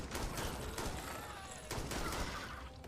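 Sustained volley of sci-fi gunfire from Starfield, with several sharp bursts landing in rapid succession over a dense, steady wash of combat noise during a prison fight against monsters.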